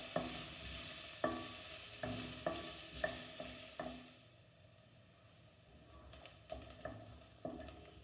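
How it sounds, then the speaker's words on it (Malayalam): Onions fry in a pan for a lotus seed curry, giving a steady sizzle with regular scraping clicks from a spoon stirring, close and continuous with no talking. "ഉള്ളി ചേർത്ത് ഇത് ഒരു ലൈറ്റ് ബ്രൗൺ നിറമാകുന്നത് വരെ കുക്ക് ചെയ്യുക."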